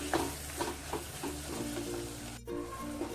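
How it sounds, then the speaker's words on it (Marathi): Chopped tomato is stirred into onion masala frying in a pan for a Satara-style matki usal, with a few spoon scrapes over a low, steady sizzle and a short break near the end. "आताही टोमॅटो घालूया एक चिरून घेतलेलं आणि चांगलं हलवून घ्यायचं आणि एकत्र करायचं"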